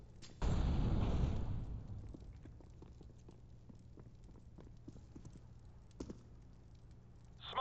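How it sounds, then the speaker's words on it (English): An incendiary grenade is thrown and catches fire in a video game on the Mirage map. A sudden whooshing burst flares for about a second, then settles into a faint, steady burn with scattered light taps and clicks. "Incendiary out."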